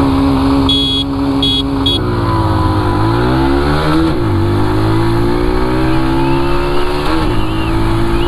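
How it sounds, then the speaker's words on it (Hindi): A TVS Sport and a Bajaj Platina motorcycle racing each other, loud engine drone with rising and falling pitch sweeps as the bikes accelerate and shift gears, recorded close from a moving rider amid wind noise. "फर्स्ट अटेम्प्ट में मैं स्पोर्ट्स चला रहा हूँ, एंड रफ्तार जो है प्लेटिना चला रहा है"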